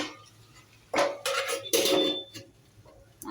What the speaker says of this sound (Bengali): ঢাকনা সরিয়ে গাঁটিয়ে দিয়েছি